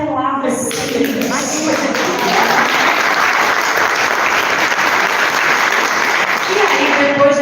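An audience at a 91st-anniversary gathering claps in a thick, sustained round of applause that swells in and holds steady, with a voice talking over the start.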